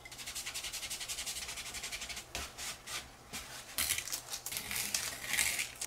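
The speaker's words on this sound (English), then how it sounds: "You can erase just directly on your paper." An eraser rubs back and forth on watercolor paper, producing a steady rhythmic scrubbing up close that turns into rougher, louder strokes toward the end.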